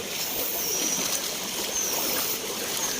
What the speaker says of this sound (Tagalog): Hala, grabe talaga ang baha dito.